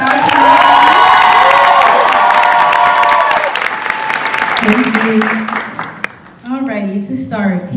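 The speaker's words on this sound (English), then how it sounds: "A round of applause for coming out." A large lecture audience bursts into loud applause and cheering with whoops, the clapping fading after several seconds before voices talk over the room.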